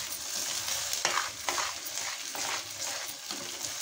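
Saag greens being stirred and roasted in a pan, quick scraping spoon strokes over a soft steady sizzle, close and fairly quiet, no talking.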